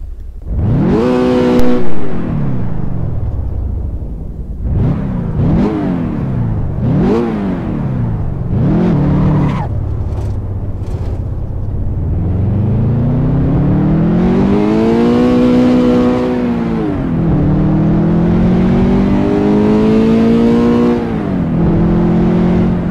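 A Toyota GT86 engine in the Assetto Corsa driving game revs loudly on the Transfagarasan mountain road, climbing repeatedly through gears in quick rising sweeps, then holding a steady droning pull, close and alone without talk.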